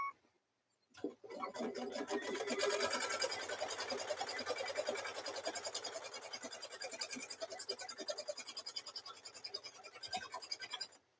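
A sewing machine stitches the sides of a guitar-themed quilt together, its fast, steady mechanical chatter running nearly continuously and close after a brief silence at the start, with no voices.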